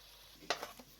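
Quiet sizzling under a few brief scrapes of a spoon stirring mustard greens curry in a pan, ending with a sharper clatter.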